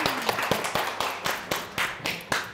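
A small group claps at a workshop to welcome Kati, the sharp claps arriving in an uneven, fairly steady rhythm and moderately close, with no talking over them.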